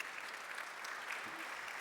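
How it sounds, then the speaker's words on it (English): A conference audience applauds panelists at a Eurobike sustainability panel, steady clapping heard faint and distant for a couple of seconds. "So please give us a huge applause for our panelists."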